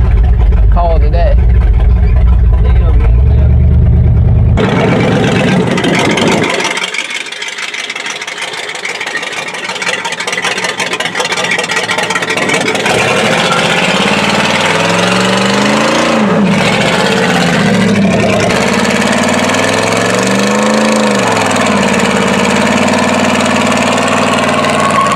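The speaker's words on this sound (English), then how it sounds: "Do a burnout and then call it a day." A 1967 Pontiac GTO doing a burnout, its V8 idling low before surging into a loud, sustained roar that swells and dips in repeated revs over about twenty seconds, with tire noise mixed in.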